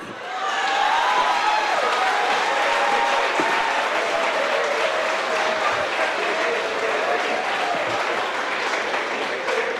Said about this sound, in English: Rachel's prize deserves a bigger round of applause